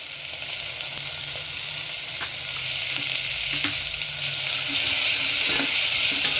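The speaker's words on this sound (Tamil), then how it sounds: "அது கூடயே கருவேப்பிலை கொஞ்சம் உப்பு போட்டு வதக்கலாம்" Thin-sliced onions with curry leaves and salt sautéing in oil, a loud, steady hissing sizzle with a few light stirring knocks, close up and continuous, with no speech.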